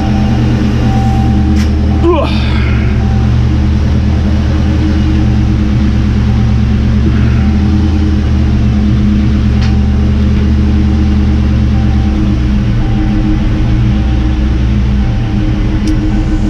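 A 1986 Ford Mustang Fox Body with a swapped-in T5 manual gearbox idles steadily as it is put in gear, a constant loud, close engine drone with a brief clunk early on.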